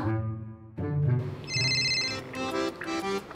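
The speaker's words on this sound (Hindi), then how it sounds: "श्रुति को फोन लगाऊं क्या?" A phone rings with a bright electronic ringtone melody, close and clear, repeating tonal notes with no talking.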